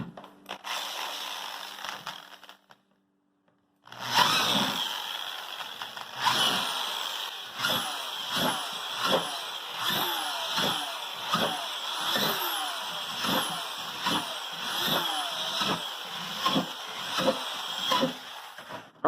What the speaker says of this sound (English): we're going to put a few drainage holes in the bottom, maybe about 6 to 8 or so